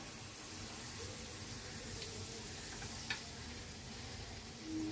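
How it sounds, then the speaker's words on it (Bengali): Malpua batter sizzles in hot oil, a soft, steady frying hiss at low volume with a couple of faint clinks, alone without any talking. "এবার দেখ এক হাতা করে নিয়ে আমি তেলে দিয়ে দিলাম"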